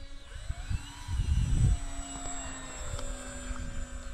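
A 3D-printed PZL.50 scale model airplane with a propeller engine flies at just over half throttle around 98 km/h, its steady distant drone rising briefly as it passes, with wind and outdoor background.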